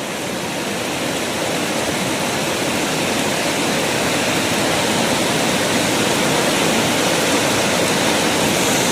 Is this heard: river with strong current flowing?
yes